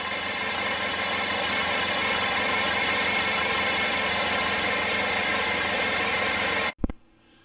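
A 1994 Honda ST1100 Pan European motorcycle engine idles loud and steady up close for several seconds, then is cut off abruptly with a brief clunk before near silence.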